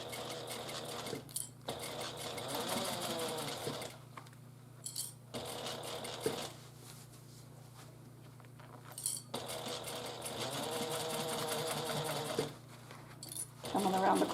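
A sewing machine fitted with a Teflon foot stitches piping onto a handbag in several close bursts of rapid mechanical whirring, separated by short pauses with light clinks and handling noise.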